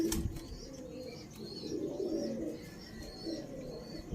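A young golden pigeon coos softly in a series of low, rounded calls, repeated and fairly close, with faint higher chirps and a light wing flutter in the background.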